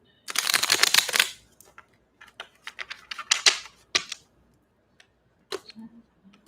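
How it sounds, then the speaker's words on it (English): Small oracle cards are riffled in a quick rustling burst, followed by scattered soft flicks and taps as individual cards are pulled and laid down in a quiet room. "let's pull some quick confirmation cards to see if we can get any more insight for you"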